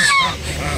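A protective goose from a mated pair lets out a loud, close honk, sharp and nasal, then trails off into a softer, breathy rasp.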